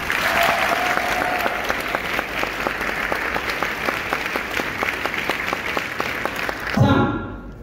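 An audience applauds steadily for several seconds, a dense, even patter of many hands clapping at close range that stops abruptly near the end.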